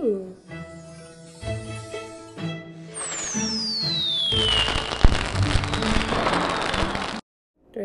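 Fireworks in the Disney Story Realms Frozen app game: a rising whistle, then a dense crackling burst that fills several seconds, following soft musical chimes.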